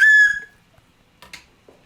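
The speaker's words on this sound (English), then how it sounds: "Slide whistle underwater." A slide whistle blown underwater gives a loud, brief high tone that bends and fades within half a second, followed by faint scattered noises.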